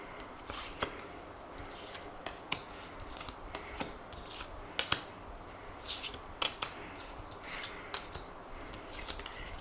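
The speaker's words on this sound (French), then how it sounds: "Alors, on va faire le tirage. Donc, on va prendre nos 9 cartes." Tarot cards are shuffled and drawn by hand, making a soft, steady papery rustle with sharp flicks and snaps as cards are cut and laid down. The sound is close and moderately quiet, and no one speaks.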